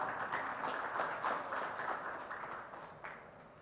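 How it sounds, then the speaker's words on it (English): Audience applause at a food processing conclave as a guest is felicitated. Individual claps stand out within a steady wash of clapping that gradually fades toward the end, fairly soft and distant. "now, ladies and gentlemen, a round of applause"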